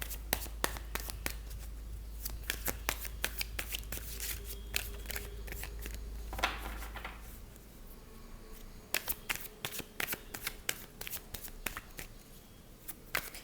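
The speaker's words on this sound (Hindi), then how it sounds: "कुछ और एक्स्ट्रा हम कार्ड निकालेंगे, उसके बाद फ्यूचर के कार्ड्स निकालेंगे" Tarot cards drawn from a deck and shuffled by hand, a string of sharp flicks and papery slaps at an uneven pace, close and fairly quiet, with a brief rustling swell midway.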